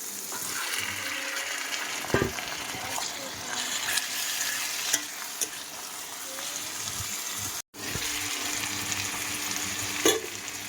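Meat going into hot spiced oil with a bay leaf, sizzling and frying loudly and continuously up close, with occasional stirring clinks and a brief cut in the sound.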